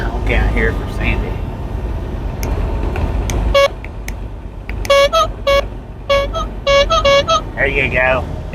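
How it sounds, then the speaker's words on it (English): A semi truck's horn honks in several short bursts on a Highway 30 drive from Blackfoot, Idaho, toward Wyoming, over steady cab rumble and road noise. "Let's get that honk out here for Sandy."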